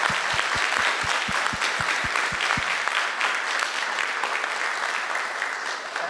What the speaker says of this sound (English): can we do one round of applause for all of the students who have helped us?